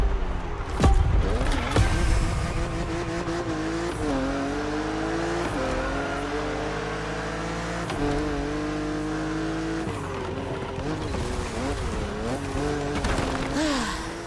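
A BMW Z4 drives along the roads of Maui in The Crew Motorfest, its engine revving steadily and loudly, climbing and dropping through the gears without pause, with faint tire noise under the drone.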